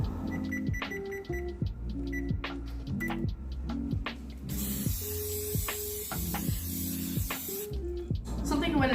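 Cooking spray hisses in short bursts as a baking pan is greased in a home kitchen, close and clear, with a longer spray in the middle over background music and someone talking.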